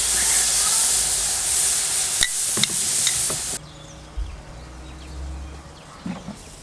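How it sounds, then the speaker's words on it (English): Jerk chicken sizzling on a scorching hot barbecue grill, a loud, dense hiss with a few sharp crackles that drops abruptly to a much quieter, softer sizzle partway through. "The chicken's going onto the grill. Just listen to that sizzle."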